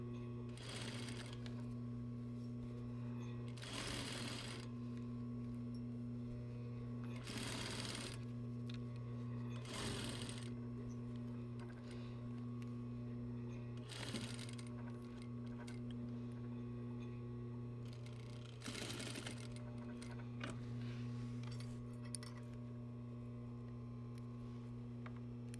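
A sewing machine stitches a seam on a garment in a basic apparel construction lesson, running in repeated bursts of a few seconds each over a steady hum, with short pauses between runs.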